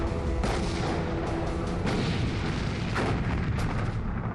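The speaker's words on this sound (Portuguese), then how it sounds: "trocam tiros com o orgulho da Marinha Inglesa" Dense, continuous rumble of heavy battleship gunfire, Bismarck and Prinz Eugen against HMS Hood and Prince of Wales, with repeated booming blasts layered over one another, loud and unrelenting, no voices.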